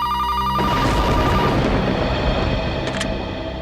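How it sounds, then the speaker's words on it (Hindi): Telephone bell ringing at night indoors, a harmonic ring that swells after a brief lead-in and holds steadily, loud and close with no talk. "दिन में तो कभी फोन की घंटी बजती नहीं।"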